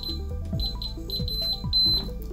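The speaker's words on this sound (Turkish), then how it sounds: "Kapıyı açtığınızda alarm duyduğunuz gibi sinyal vermeye başlıyor." Repeated high electronic beeps from a door alarm keypad, steady and close, sounding in short tones with a low hum underneath.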